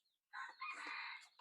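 A rooster crows once at a rural home in Laos, a loud, close, drawn-out cock-a-doodle-doo that starts abruptly, holds strongly, then trails off with a brief final note.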